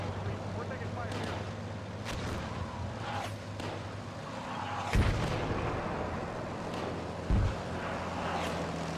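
Distant gunfire in a video game battle, a few scattered thumps and shots over a constant windy, rumbling background, with voices talking throughout.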